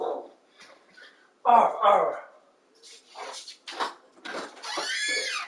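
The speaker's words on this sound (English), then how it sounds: "My puppy's barking" A pet puppy barks and yips in short bursts close by at home, sharp, loud yaps scattered between pauses, with a person speaking briefly in between.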